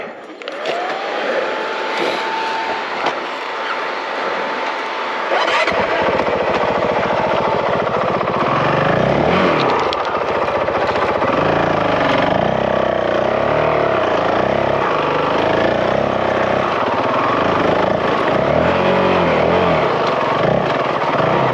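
A motorcycle riding a rocky trail, its engine roaring loud and close with shifting revs, over a constant rumble of rough terrain and wind buffeting after a rising whine at the start.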